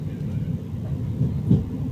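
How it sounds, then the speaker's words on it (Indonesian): Train pulling away from Purwokerto station, a steady low rumble and rolling rail noise throughout, moderately loud and close, with a slight swell near the end and no talking. "Seperti ini kereta berhenti sangat sebentar ya, karena memang agak lambat."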